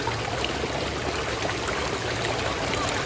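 A small waterfall at Silverwood Lake, California splashes steadily nearby, a constant bright rush of flowing water with no breaks.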